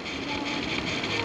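Steady, loud wind rush buffeting the microphone while riding an e-bike along a path, a continuous roaring gust with no voices over it.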